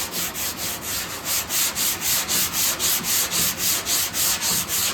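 A Chevrolet C10 pickup tailgate is block sanded in a steady back-and-forth rasp, a dozen or more even strokes about three per second. The scraping is close and loud with no talk.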